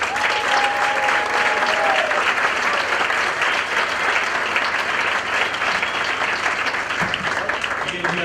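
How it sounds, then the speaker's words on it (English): A steady, dense round of applause rolls through a jazz concert audience for several seconds, with a voice briefly audible early on. "Let's give them a big round of applause."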